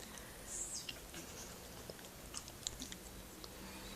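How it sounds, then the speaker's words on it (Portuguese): A dog gnaws on a bone indoors, giving faint, irregular crunching and clicking bites spread over a quiet room background. "Larga esse osso, rapaz."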